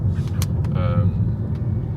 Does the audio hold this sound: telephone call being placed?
no